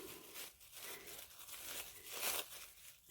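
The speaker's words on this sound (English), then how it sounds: "I like taking small pieces of saran wrap, bunching it up and putting it on the plate" Saran wrap plastic film is bunched and crumpled by hand in a continuous, quiet crinkling and crackling, close up with soft irregular bursts and no talk.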